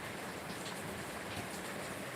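Steady rain falling outdoors, a soft continuous hiss of drops on surfaces with no voices, even and unbroken throughout.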